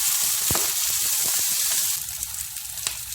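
Garlic, onion and chili hit hot oil in a pan and sizzle loudly and steadily, with a few brief clicks of stirring near the start.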